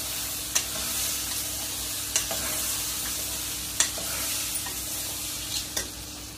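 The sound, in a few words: tomato rice ingredients roasting in a pan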